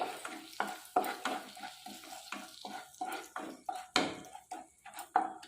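Ground masala of coriander powder, Kashmiri chilli and turmeric is stirred in a pan for shahi paneer, with repeated scraping strokes over a soft sizzle, close and clear.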